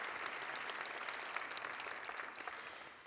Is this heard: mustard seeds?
no